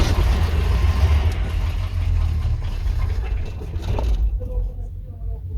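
A car engine idles steadily and fairly loud after the clutch is pressed in, a continuous low rumble that holds for several seconds before dropping away near the end.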